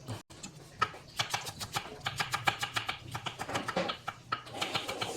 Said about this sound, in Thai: หั่นหอมแดงกันต่อนะครับ